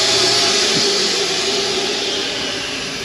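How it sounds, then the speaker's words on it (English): A built-in vacuum dustpan in a 2023 No Boundaries 19.3 off-road camper runs with a loud, steady airy whoosh and hiss that continues without a break. "let's just say it's a vacuum dustpan. You can sweep everything up right there,"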